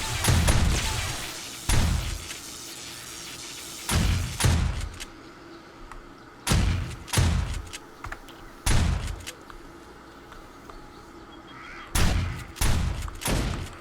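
Automated base guns fire in 7 Days to Die, loosing repeated loud bursts of shots at irregular intervals, with short pauses in between.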